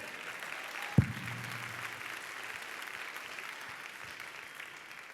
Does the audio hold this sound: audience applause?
yes